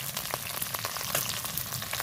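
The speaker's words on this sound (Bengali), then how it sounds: "মাছগুলো দিয়েছি আর এক করে উল্টে পাল্টে ভেজে নেব আমি" Fish pieces frying in hot oil in a wok, a steady dense sizzle and crackle throughout with small sputtering pops, close and continuous with no talk.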